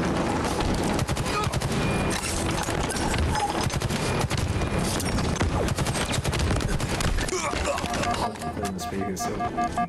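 Battle rifle gunfire in Halo Infinite rattles in rapid, dense bursts through most of the stretch, loud and close, with other weapon and game effects mixed in before the shooting thins out near the end.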